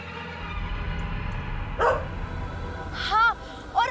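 A dog lets out a few short, sharp barks spread across a few seconds, rising over a steady murmur of background sound and voices.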